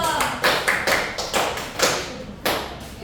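A small classroom group claps during a microteaching session, with sharp, separate hand claps in an uneven rhythm, close and fairly loud, not a dense continuous applause.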